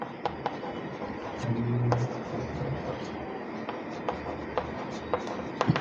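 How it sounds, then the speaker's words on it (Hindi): Handwriting of an English grammar question, heard as light intermittent pen ticks and scratches over a steady background hiss, fairly close, with no one speaking. "एक क्वेश्चन और लिख रहा हूँ"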